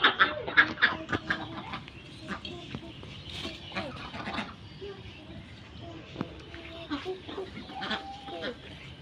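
Ducks quack and honk near their backyard swimming pool in a series of close, uneven bursts, with a person talking in between.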